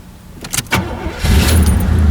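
An old Oldsmobile Cutlass engine cranks briefly, then catches and roars to life on the second attempt, settling into a loud, rough idle up close.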